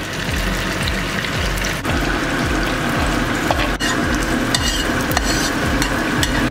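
Bora fritters deep frying in hot oil: a dense, steady bubbling sizzle that is close and loud, continuous throughout with no pauses.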